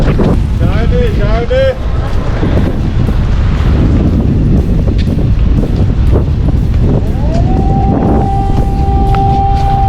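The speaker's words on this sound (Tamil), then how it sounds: "மார்னிங்கில் நல்ல கோல்டு, நல்ல ப்ரீஸு, சூப்பர் ப்ரீஸு" Morning sea breeze at Kanyakumari on the coast, steady loud wind buffeting the microphone throughout, with a voice speaking briefly early on and a long horn-like tone toward the end.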